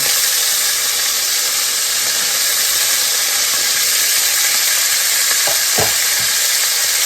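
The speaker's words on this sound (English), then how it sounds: "that grease is popping all over the place" Beef frying in a pan gives off a loud, steady sizzle of hot grease, with a few sharp pops near the end standing out over the continuous hiss.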